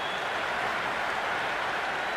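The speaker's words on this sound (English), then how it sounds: "It's evident and ever so audible that the crowd is at near bursting point at today's play." Steady roar of a cheering cricket crowd in the Cricket 26 video game during an India vs Ireland match, a dense continuous wash of applause and cheers with no gaps, loud and even throughout.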